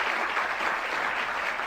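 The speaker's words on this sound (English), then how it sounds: "Let me ask you to hold your applause until we get them all." Audience applause at an awards ceremony: dense, steady clapping from a large crowd that stays at an even level throughout, with no voices over it.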